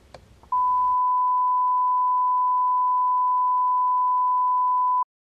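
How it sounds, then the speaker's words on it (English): A steady sine wave test tone plays in audio mixing software, one pure constant pitch holding loud and unchanging for about four and a half seconds after a brief burst of faint noise, then cutting off abruptly. "that's all a sine wave does, it just stays constant"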